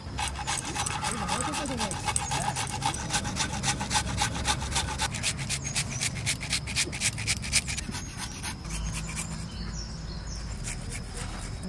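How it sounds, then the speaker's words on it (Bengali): Squash rubbed against a hand grater in a home kitchen while making momo, giving a steady rapid rasping scrape for about eight seconds, close and fairly loud, before it stops and leaves quieter background. "কোয়াশটা ঘষে নেব ওই ঘষণিটা দিয়ে।"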